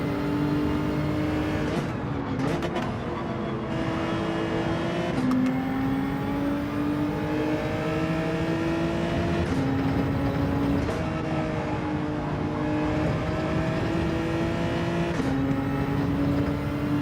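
Racing car engines in Gran Turismo 7 hold steady high-pitched drones through an online lobby race, with several engine notes layered together and pitch dropping and climbing at repeated gear shifts, loud and continuous with no speech.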